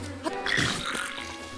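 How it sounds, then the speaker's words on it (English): Bees buzzing and swarming enemies in Breath of the Wild, a short, wavering insect drone rising and falling in pitch, moderately loud against a faint game background. "Now the bees are fighting them."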